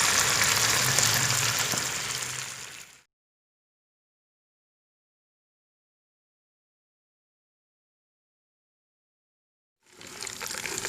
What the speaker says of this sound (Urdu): یہ دیکھیں ڈرم سٹک جو ہیں بہت ہی زبردست فرائی ہو چکے ہیں